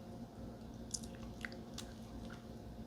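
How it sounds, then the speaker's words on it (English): Close, soft chewing of food with moist squishy bites and a few small crunches over a steady background hum, no speech. "Feels like I'm chewing on a sponge."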